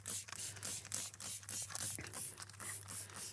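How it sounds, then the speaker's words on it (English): Quick, rhythmic pumps of a trigger sprayer hiss out bike cleaner onto a bicycle in short bursts, one after another, close by against a low hum. "And just spray the bike down."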